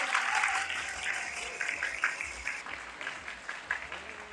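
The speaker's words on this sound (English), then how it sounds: "Let's give them a warm round of applause," An audience applauds high school students from San Jose del Monte city schools at a Miss Universe talk event, steady sustained clapping with a faint voice underneath.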